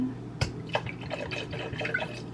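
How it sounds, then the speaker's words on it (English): Vodka poured for a Valentine's Day cocktail, a short close liquid trickle with a few drips and splashes, no talking. "So you're just gonna do 2 ounces of your vodka."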